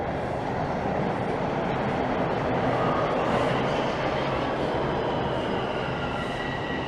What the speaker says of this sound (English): As a northbound train rolls in